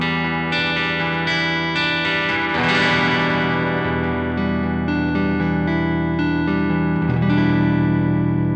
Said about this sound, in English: I'll just give you an example of how it can make an arpeggiated chord part sound almost harp-like compared to the brighter sound of picking near the bridge